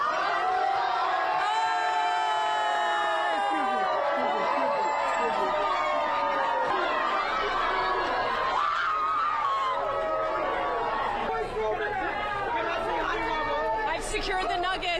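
Loud crowd cheering, whooping and excited chatter as doors open at a Buc-ee's store opening at 6 a.m., sustained close-up crowd noise with shouts and screams throughout.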